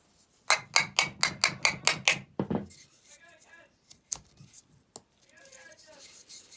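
Eight rapid, evenly spaced sharp knocks as a bath bomb mold is slammed against a surface to free the bomb, followed by a few scattered softer taps and rustling; a person talks between and after.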